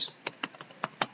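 Light, quick taps on a computer keyboard, about six keystrokes in a short irregular burst, close and quiet with no talk.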